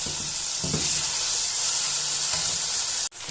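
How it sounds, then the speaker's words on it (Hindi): Chicken frying on high flame in a kadai for white kadai chicken, giving a steady, loud sizzle with a few stirring scrapes and a sharp cutoff near the end. "अब हम इसको फ्राई करेंगे"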